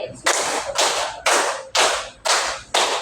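A group in a classroom or training session claps in unison: six sharp, loud claps evenly spaced in three pairs, with no talking.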